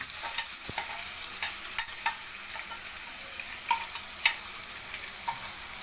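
Two chopped onions sautéing in oil with a bay leaf for a cashew curry give a steady broadband sizzle, punctuated by irregular sharp clicks and scrapes of a spoon stirring the pan.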